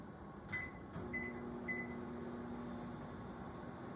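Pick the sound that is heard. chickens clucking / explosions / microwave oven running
microwave oven running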